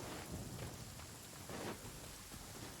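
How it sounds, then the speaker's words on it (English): Heavy rain and rumbling thunder in the video game Genshin Impact, a dense continuous downpour hiss with low booming rolls underneath, steady and close, no voices. "Regen, wunderbarer Regen."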